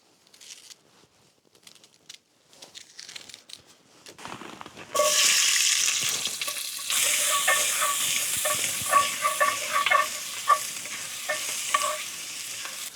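Onions hit hot oil in a pot while cooking outdoors in winter. After a few seconds of faint handling noise, a loud, steady sizzle erupts and keeps going close up, with scattered sharper crackles.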